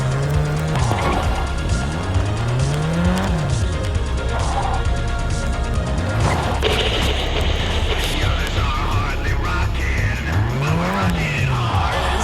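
A car in the video game Gangstar IV races along with revving engine sweeps and repeated loud tire squeals from skids, rising and falling over continuous road noise.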